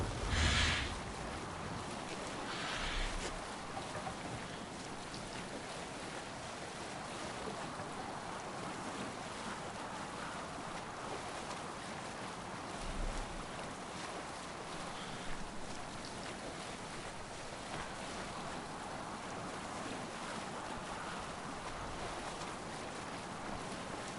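Sailing ship on open sea in Assassin's Creed Valhalla, with steady wind and wave wash rolling throughout, a few brief louder swells, no voices.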